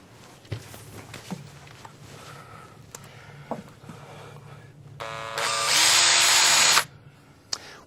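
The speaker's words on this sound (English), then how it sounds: "What I'll do next is just take the hardware and put it into the pre-drilled holes underneath" Power drill driving hardware into pre-drilled holes of a Patterns workwall, a loud steady whir of about two seconds after scattered soft knocks and handling clatter.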